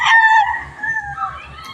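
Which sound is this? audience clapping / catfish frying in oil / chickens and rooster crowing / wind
chickens and rooster crowing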